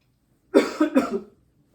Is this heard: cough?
yes